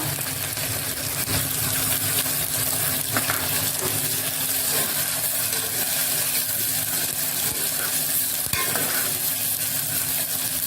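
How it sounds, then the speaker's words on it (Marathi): Onion frying in a pan for a restaurant-style Kashmiri chicken, heard as a steady close sizzle with occasional stirring scrapes and a low background hum, no one speaking. "आपण फ्राय करून घेऊया"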